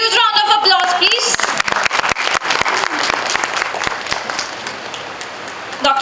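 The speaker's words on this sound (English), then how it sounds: "A huge round of applause, please." Audience applause at a college accreditation celebration, loud and dense clapping with a voice speaking over the start, later thinning into scattered claps that fade.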